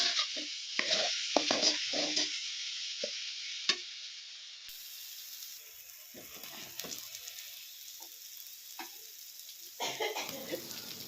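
Spices sauté together in a pan with a steady close sizzle and frying hiss, punctuated by irregular scraping and knocking from a spatula being stirred through the mixture.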